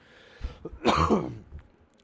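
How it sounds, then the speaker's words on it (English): A couple of rough coughs or throat-clearing bursts, close and fairly loud, with a short harsh hack followed by a longer raspy cough. "And once again, I apologize for my coughing."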